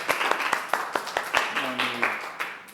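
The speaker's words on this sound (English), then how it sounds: "Big applause, please, guys." Scattered handclaps from a small audience at a startup presentation event ring out in a loose, uneven rhythm, with a voice briefly heard partway through.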